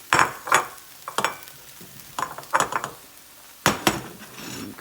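Egg whites scrambled in a bowl with a utensil, giving clusters of close scraping and clinking strokes in short bursts separated by brief pauses, with faint sizzling underneath.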